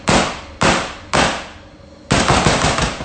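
A baking tin filled with blondie batter is banged down on a surface four times, giving loud, sharp, close impacts with brief ringing decay between them and no talking.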